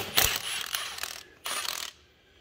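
A ratchet wrench works on a 3/8 bolt with a 9/16 head, the lock bolt of a Caterpillar RD-4 final drive. Two quick, close bursts of metallic clicking ratchet strokes are heard, quiet and without talk.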